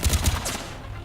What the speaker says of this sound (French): avec cette arme semi-automatique, j'arrive pas à le toucher